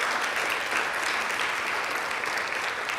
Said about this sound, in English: hear from everyone a round of applause